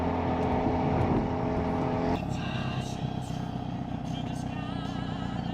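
Turbo car exhaust fitted with a new Whoosh downpipe, a loud, steady droning rumble that drops to a lower, rougher tone partway through, heard close up with no talking.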